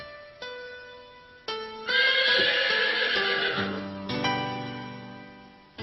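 A horse whinnies loudly and at length, its high shaky neigh rising and falling, with a few snorts and low grunts close by.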